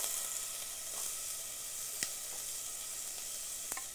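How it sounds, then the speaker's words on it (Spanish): Onion sizzles steadily in olive oil in a frying pan, a constant bright hiss with a few faint clicks from the pan, and no voices. "vamos a poner la cebolla en el sartén"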